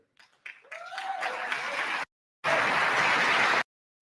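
An audience breaks into clapping, two dense bursts of applause cut apart by a short silence, preceded by a faint voice at the start.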